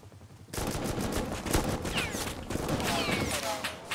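Gunfire in the video game Rust comes as dense, rapid bursts of automatic shots that go on without a break, loud and close.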